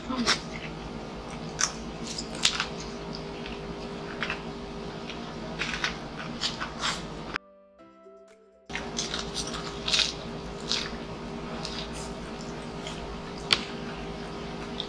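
Crunchy, crispy fried food being chewed and broken apart, with repeated crackling bites and squishes close up, with people talking throughout and a short silent gap midway.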